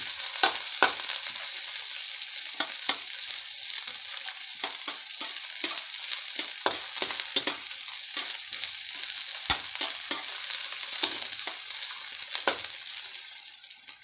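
Onions sizzle steadily in a hot pan for a sinigang of salmon head with shrimp, a continuous bright crackle broken by occasional stirring scrapes, close and fairly loud with no voices.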